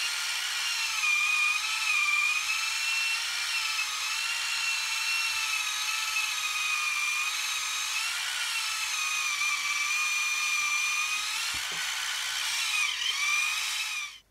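A Dr. Scholl electric callus remover grinds dead skin from a foot, giving a steady, high-pitched motorized whine that holds close and loud for about fourteen seconds before cutting off abruptly.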